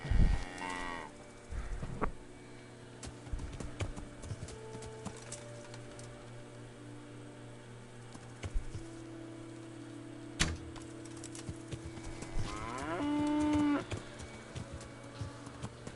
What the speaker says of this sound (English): Cow doesn't want to go down.